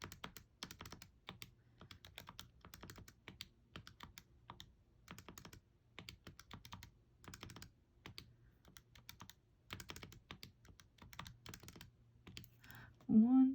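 Calculator keys are pressed to enter a run of numbers, with rapid bursts of close, light clicking separated by short pauses, and a voice briefly at the end.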